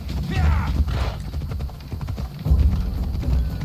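A horse's hooves clip-clop in Assassin's Creed Odyssey, a rhythmic run of close thuds mixed with game sounds, with a voice talking over part of it.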